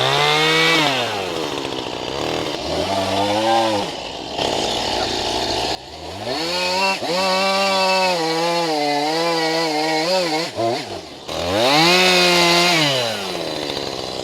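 A chainsaw cuts through a log being shaped for a tiny log cabin, its engine snarling loud and close with pitch dips and rises as it bogs and revs through the wood over a long continuous run.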